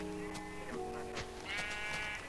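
Sheep in the video game Minecraft bleat a few times, wavering calls layered over a steady in-game musical drone and ambient hum.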